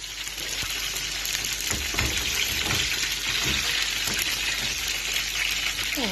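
Kofta frying in a pan of hot oil, a steady bright sizzle and crackle that holds evenly throughout at moderate level, close by, with no talk over it.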